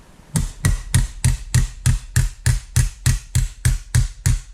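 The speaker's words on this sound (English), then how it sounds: "tap your way down it, keeping to the middle until it starts to fold up at the edges." A hammer taps steadily along the bead of a Fordson Major E1A tractor mudguard, striking a sheet-metal edge in an even rhythm of about twelve sharp, close, ringing blows with no talk.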